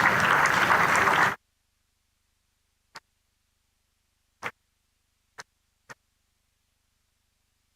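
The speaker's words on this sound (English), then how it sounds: "Let's listen to the applause." Applause at a County Championship cricket match between Sussex and Worcestershire as Jake Libby walks off the field: a dense burst of clapping that cuts off abruptly after about a second, followed by silence broken by a few faint isolated clicks.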